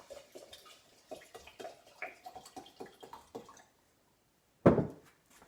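Water poured onto green lentils for sprouting, a series of soft close glugs and trickles in an irregular rhythm that stop, followed by one louder splash.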